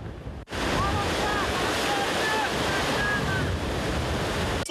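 Autumn wind and surf waves roll in at Arcadia beach, a steady broadband roar of breaking water and gusting wind buffeting the microphone, loud and continuous after a brief opening cut, with faint faraway voices underneath.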